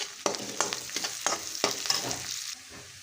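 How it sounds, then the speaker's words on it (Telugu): Sliced onions and a couple of curry leaves fry in a pan with a steady broadband sizzle, broken by several sharp stirring scrapes and clatters, with no voices. "ఉల్లిపాయలు అయితే కాస్త అయితే ఫ్రై అవ్వనివ్వండి."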